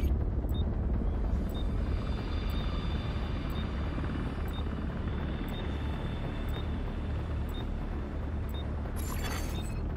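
Helicopter in Tom Clancy's The Division 2 approaching the extraction zone: a steady, loud low rotor rumble and engine drone that holds for the whole stretch, with faint periodic ticks and a brief hiss burst near the end, no talking.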